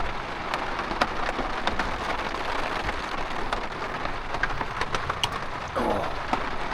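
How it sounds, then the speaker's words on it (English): Heavy rain pounds steadily on a truck during a storm at a dispersed Michigan campsite, a dense close-up drumming with sharper drops striking the roof and no voices. "as you can hear, the rain has started, and it's going hard."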